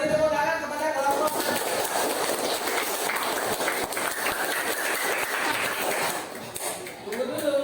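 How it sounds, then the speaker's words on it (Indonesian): Students in a classroom clap for a group in a dense, continuous patter that tapers off near the end, with voices faintly mixed in. "kita beri tepuk tangan kepada kelompok."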